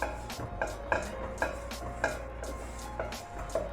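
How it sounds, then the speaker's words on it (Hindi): A spoon scraping and stirring besan as it slowly roasts in a pan over low heat, for besan laddu: a steady series of soft, regular scrapes and taps, close up, with no talking. "इसमें मैं ऐसी चम्मच उस वक्त से हिला रही हूँ।"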